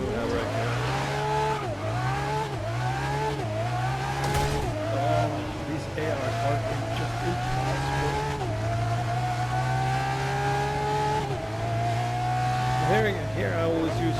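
Car engine revving and shifting through gears as the driver pulls a handbrake turn in the racing game Grid 2019, loud and continuous with tire squeal, a voice talking over it.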